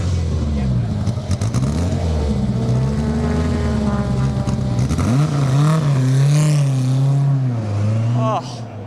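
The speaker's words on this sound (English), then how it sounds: "The engine just been fired up." Lotus Elan race car engine running at Silverstone during a classic racing event, a loud, steady engine drone with rising and falling pitch as it revs, with a commentator's voice talking over it throughout.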